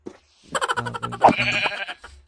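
Bleating goats in the Minecraft video game, a few short, wavering game-animal cries heard close and clear, one after another, against a quiet background.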